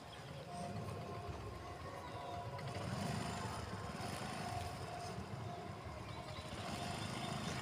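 A scooter engine running steadily while a learner rides, a continuous low droning hum at moderate distance with slight rises and falls in throttle.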